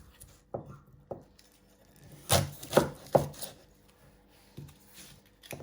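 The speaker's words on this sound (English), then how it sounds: "I like to flatten it so it's more easy to chop. Then you're going to chop your other ends off." An onion being chopped with a knife on a board, a few isolated close knocks followed by a cluster of louder firm cuts, then quieter taps, with no talking.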